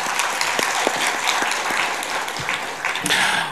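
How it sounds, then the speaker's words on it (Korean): A church congregation at a Christmas service claps loudly in a continuous burst of applause, a few sharper individual claps standing out from the steady wash of hands. "격려의 박수 한번 크게 하시기 바랍니다"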